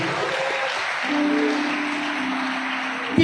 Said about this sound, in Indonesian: Tepuk tangan yang paling meriah buat dia